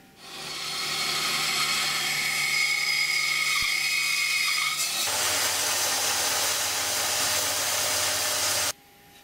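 A drum sander flattens a maple guitar back with a loud, steady mechanical whine and a rushing abrasive hiss that shifts partway through, then cuts off abruptly near the end.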